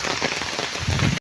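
Rain falls steadily in an African village, a dense, loud hiss of drops striking surfaces close by, continuous and unbroken, with no voices.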